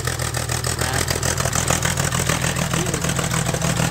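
A 1961 Bombardier narrow gauge machine idles while warming up, a loud, close, steady engine rumble with a rapid rhythmic chug and no voices.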